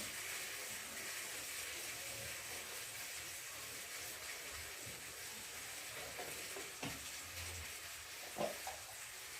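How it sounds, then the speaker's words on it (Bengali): Onions fry with ginger-cumin paste in a pan, giving a quiet, continuous sizzle with a few soft stirring knocks, heard alone. "আদা জিরে বাটা দিয়েছি আর পেঁয়াজে ফোড়ন দিয়েছি।"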